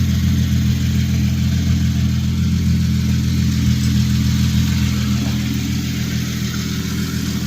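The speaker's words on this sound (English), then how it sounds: "Started it up, threw it in first. And she is spinning." Hyundai Genesis Coupe engine running in first gear with the drive shaft removed, just after a clutch and slave cylinder replacement. It gives a loud, steady, close-up drone with a deep hum that stays even throughout.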